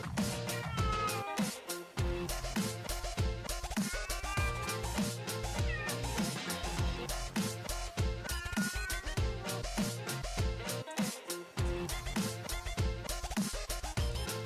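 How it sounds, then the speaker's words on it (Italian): A Bengal cat meows repeatedly, close by, over a dense, busy background of rattling and clattering noise that continues throughout. "questo è il primo incontro tra Bea e il gatto"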